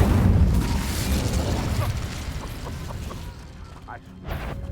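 The Incendio fire spell cast in Hogwarts Legacy: a loud rumbling burst of flame that fades into crackling and creaking debris, with a few faint clicks and a later low swell.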